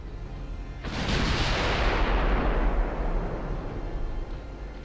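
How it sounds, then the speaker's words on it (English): A distant naval gun salvo of high-explosive shells fires in Ultimate Admiral Dreadnoughts: a sudden loud boom followed by a long rumbling roar that slowly fades over several seconds, with no talk. "We're firing at 27 kilometers. Firing with HE though."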